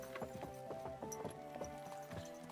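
Horse hooves clip-clopping in a video game, a steady close rhythm of hard, hollow hoofbeats continuing throughout without talk.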